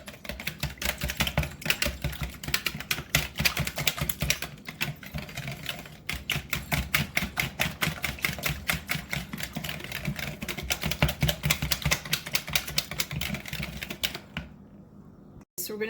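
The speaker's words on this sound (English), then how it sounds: "and we're going to whisk this together" Root beer cake batter with vanilla extract is whisked in a bowl, making rapid, continuous rhythmic clicking and scraping close by that stops abruptly near the end.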